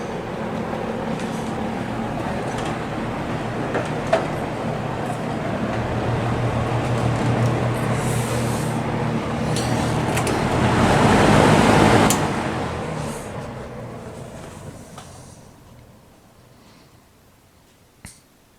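A vintage JCPenney 9711 box fan with a deep cabinet hums steadily with a broad airy whoosh, swells briefly, then winds down into a fading, slowing spin until near silence.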